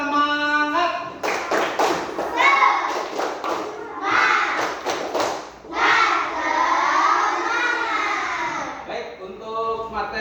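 Schoolchildren in a classroom perform the 'tepuk semangat' clapping chant, sharp rhythmic claps and thumps in quick patterned bursts, loud and close, with children's voices chanting along between the claps.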